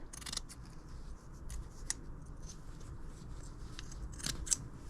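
Scissors cutting strips of material for a wine-bottle self-watering plant pot, a few quiet, close snips and crisp clicks spread across a faint, hushed background with no talk.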